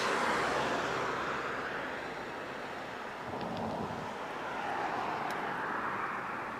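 Air Canada airliner at Barcelona El Prat airport, heard as a broad, steady jet roar that swells and fades slightly over several seconds, mixed with wind noise on the microphone.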